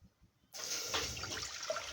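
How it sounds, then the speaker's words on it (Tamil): Milk poured from a container into a pan on a stove while making wheat payasam, a steady liquid splashing and trickling that starts abruptly after a quiet moment and continues close by with no talk. "நம்ம எடுத்து வச்சுருக்க பால் இதில் ஊற்றிங்க."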